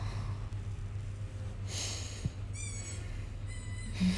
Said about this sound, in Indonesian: Itu suara mainan adik aku.